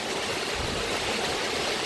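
Heavy rain and wind outdoors, a steady, dense roar of rushing, hissing noise that stays loud and unbroken throughout, with no voices.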